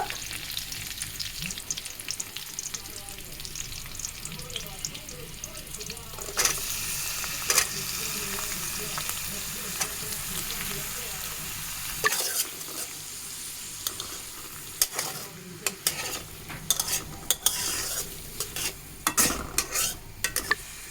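Garlic, onion and vegetables frying in a pan for noodle soup, a steady loud sizzle with frequent metallic scrapes and clanks of a spatula stirring, busier clattering toward the end.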